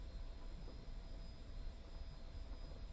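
Aircraft engine in a flight game, held to a steady low drone as the plane taxis toward takeoff with a full fuel load; faint, even and continuous, with no talking.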